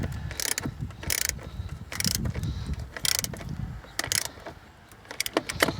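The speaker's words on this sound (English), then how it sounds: "Go ahead and tighten that bolt back up." Ratcheting clicks from a wrench tightening the negative battery terminal bolt on a 2011 Toyota Camry, close up, in several short bursts separated by brief pauses.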